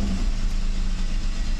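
A Mercedes 600SL engine runs close by with a steady, dense mechanical rumble and low hum, heard alone without talk over the short stretch.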